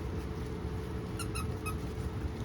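Three quick squeaks from a squeaky dog toy, close and distinct, over a steady background hum.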